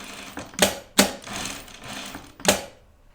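A sewing machine stitches a stuffed guinea pig toy with a small stitch length and about an eighth-inch seam allowance, giving loud, close bursts of rapid mechanical clatter separated by quieter whirring pauses.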